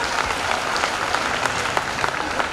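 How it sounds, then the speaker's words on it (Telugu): Audience clapping steadily at a school annual day, a dense, even wash of applause from a crowd, sustained and fairly close throughout. "అందరు క్లాప్ కొట్టాలి దీనికి"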